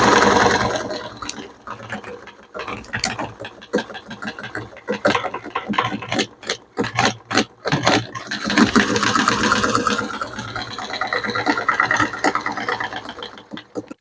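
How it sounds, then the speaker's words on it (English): A sewing machine stitching boat upholstery runs in uneven bursts of rapid mechanical clatter, starting and stopping between short pauses, fairly close and with no talking. "Now we're going to start sewing."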